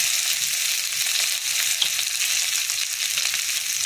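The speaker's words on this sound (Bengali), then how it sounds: "আলুটা একটু ভাজা ভাজা করে নিচ্ছি" Potato pieces frying in a pan for alu posto give off a steady, loud, bright sizzle with small crackles throughout, no voices.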